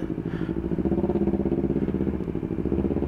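A Yamaha NMAX scooter engine hums steadily with a pulsing mid-pitched drone while riding, close up, with no talking.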